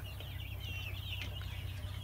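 Speckled Sussex chicks and chickens cheep and cluck softly in a coop, a steady thin chirping chatter over a low background hum, fairly faint and with no voices.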